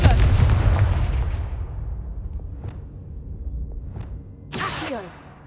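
A Confringo fire spell blast in the Hogwarts Legacy game, a loud close explosive boom that rumbles and decays, followed by a sharp second burst near the end.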